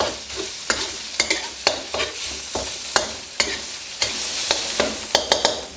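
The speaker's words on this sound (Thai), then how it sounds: "พอน้ำมันเริ่มร้อนใส่พริกแกงเผ็ดลงไปสามช้อนโต๊ะครึ่ง กะปิครับหนึ่งช้อนชา ผัดคลุกเคล้าให้เข้ากันครับ" Red curry paste and shrimp paste are stir-fried in hot oil with a steady hiss. Repeated scraping spatula strokes mark a steady, close rhythm, with no voices present.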